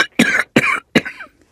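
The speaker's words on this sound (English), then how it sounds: "Do you have a cough, too?" A person coughs three times in quick succession, each a short harsh burst close to the microphone, with brief pauses between them.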